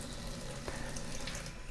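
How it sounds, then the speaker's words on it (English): Warm water runs steadily from a kitchen faucet in a continuous, moderately loud stream with a brief splash partway through, no voices present. "I'm gonna take some warm water, as warm as you can get it from the faucet"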